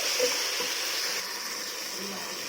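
Mint and coriander frying in a pan for Chennur dum biryani, giving a steady, fairly quiet sizzling hiss throughout.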